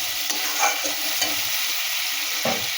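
Spices sizzle steadily in hot oil for a potato and green pea curry, with scraping stirs at intervals cutting through the continuous, close frying hiss.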